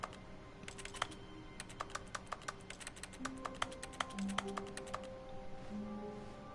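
A keyboard in the video game The Stanley Parable is pressed in a rapid run of sharp key clicks, uneven in rhythm and fairly close, with faint soft tones underneath and no talk.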